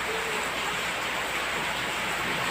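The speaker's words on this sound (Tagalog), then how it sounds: "Ay guys, maulan gabi. Ayan, nakita nyo, maulan." Heavy rain falling at night during a storm, a dense, even rush of drops filling the air without pause, loud and close.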